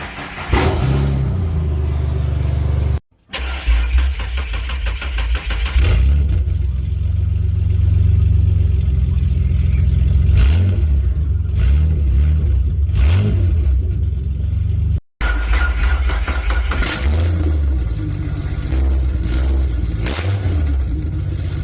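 Ford Falcon six-cylinder fitted with Pacemaker exhaust headers, revving loudly and repeatedly in rising and falling bursts over a steady rumbling idle, with two brief cutouts along the way.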